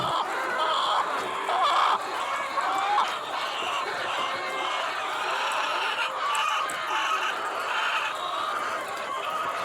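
Chickens cluck and call continuously on a farm with native fowl, ducks and a pig, with a dense, steady chorus of bird sounds and a few sharper calls rising above it.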